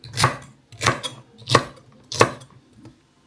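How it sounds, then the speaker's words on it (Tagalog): A knife chops celery on a cutting board for homemade soup, four crisp, evenly spaced cuts landing close by and clearly, with nothing else heard. "Celery ay, ganyan lang din yung pagkahiwa."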